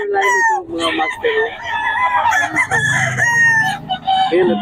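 A fighting cock of the Philip Neri line crows loudly and close by in several drawn-out calls, with people talking softly beneath the crowing.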